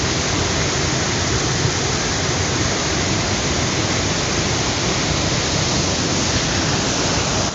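River flowing past a riverbank, a steady broad rush of water that stays loud and even throughout with no voices.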